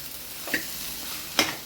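Potatoes and eggplant stirred in hot oil tempering, a steady close sizzle with two brief scraping stirs, no one talking.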